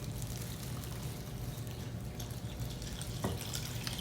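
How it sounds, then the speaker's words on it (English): Water poured into a cake batter of sugar and baking soda, a steady, close splashing stream like a running tap that continues evenly throughout, with no talking. "Now we'll add the water."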